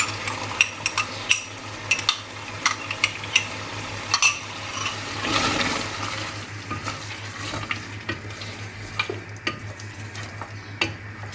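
Yogurt hitting hot oil in a pan of mutton korma, stirred with a utensil that scrapes and clinks against the pot in repeated strokes over a steady sizzle that swells briefly midway.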